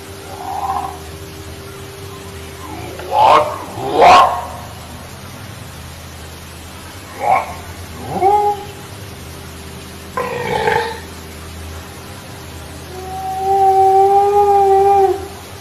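Purported Sasquatch vocalizations recorded in 1983: scattered deep grunts and groans, a couple of rough bursts, then a long wavering howl near the end, all over a steady recording hiss.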